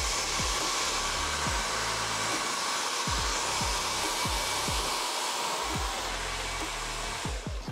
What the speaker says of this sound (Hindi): जो ब्लो ड्रायर है ना वो बिल्कुल यहाँ पे स्कैल्प पे यूज़ नहीं करना